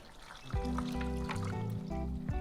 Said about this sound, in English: So we're gonna fill this up with water.